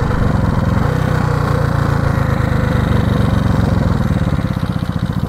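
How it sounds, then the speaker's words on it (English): A neglected classic motorcycle engine, sounding like a 350, runs steadily and loudly up close, a rough rhythmic chug that holds throughout with no talking. "She's feeling pretty good right now though. There, she's sounding like a 350."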